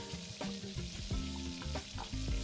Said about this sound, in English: Let's quickly add 2 onions that are sliced.